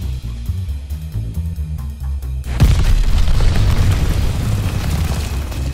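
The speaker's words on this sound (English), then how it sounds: "Got an enemy glide bomb on the way." A loud boom erupts from an enemy glide bomb in a combat video game, a deep explosion at about two and a half seconds, then a sustained rumbling roar after a steady low hum.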